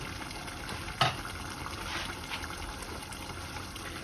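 Water poured into a pan of simmering minced meat for spaghetti gives a soft, steady sizzle and trickle with a brief clatter near the start, close by and without talk.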